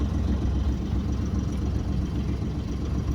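A boat engine idles steadily at 600 RPM after bilge work and a throttle cable and lever repair, giving a continuous low, close rumble with no talk.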